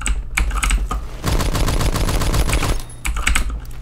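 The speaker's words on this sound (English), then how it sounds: "It's so bouncy though when you're just firing at full auto." An M3A1 submachine gun fires full auto in a video game, a rapid steady burst of shots lasting over a second, loud and close, with game sounds around it.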